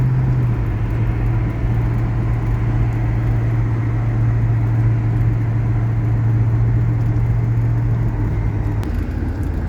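A 1968 Pontiac LeMans drives along with a steady low engine drone and road rumble, holding an even pitch for most of the run before easing off near the end.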